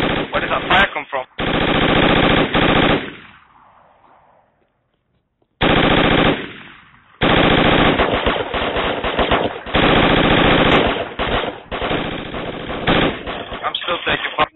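Video game Project Reality gunfire: loud, close bursts of automatic fire filling most of the stretch, broken by a brief near-silent gap before heavy firing resumes, with scattered single shots toward the end.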